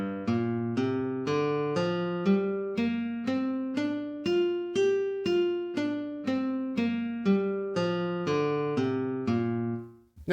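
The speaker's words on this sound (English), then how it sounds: "This is called a pentatonic scale" A pentatonic scale played on guitar, about seventeen clean picked notes rising then falling at a steady even pace, each note ringing and decaying before the next, close and alone with no voices.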